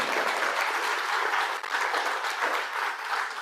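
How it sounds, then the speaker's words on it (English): An audience applauds after a Buddhist temple seminar, with dense, sustained clapping filling the room at a steady level. "let's have a wonderful round of applause for Reverend Miyaji's wonderful seminar again"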